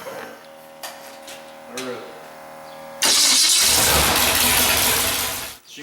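A derby car engine being bumped over: a few faint ticks and clicks, a brief cranking whir, then the motor catches and roars loudly and steadily for a couple of seconds before dropping off abruptly.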